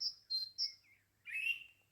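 Small birds chirp and tweet in a spring garden, a few quick high calls followed by a longer trilling phrase, fairly faint and alone.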